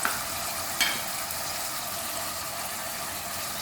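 Chicken and crushed onion fry in a pan with a steady, soft sizzle throughout and a brief stir clatter near the start.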